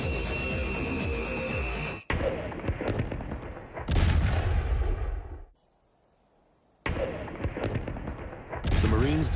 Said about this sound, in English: They're going to reduce the building by firing that main cannon.